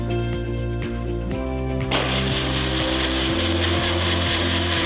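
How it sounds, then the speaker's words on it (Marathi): A mixer grinder grinds soaked rice with dissolved jaggery, its motor whining steadily and loudly, then shifting to a rougher, fuller roar as the blades bite into the batter. "आता हे आपण मिक्सर मध्ये छान वाटून घेऊया"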